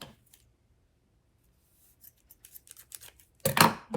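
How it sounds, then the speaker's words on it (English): Scissors snip through elastic for pointe shoes, a quiet run of small crisp clicks that builds to one louder, longer cut at the end, close by and with no talk. "cut, fold it in half,"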